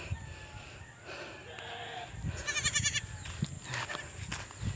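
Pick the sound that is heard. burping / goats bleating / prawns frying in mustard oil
goats bleating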